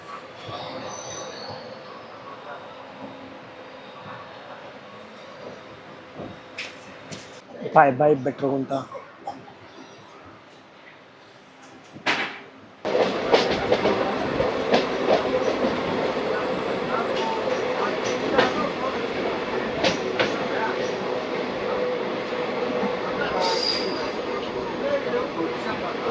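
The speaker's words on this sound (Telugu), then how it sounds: "మన ట్రైన్ బెట్రకుంట స్టేషన్కి వచ్చింది. స్టేషన్ నుంచి బయలుదేరిపోయింది." Puri Tirupati Express train pulling out of Betrakunta station, with loud continuous rolling rumble and rattling from the carriages, a brief squeal of wheels partway through, and a short spoken remark early on.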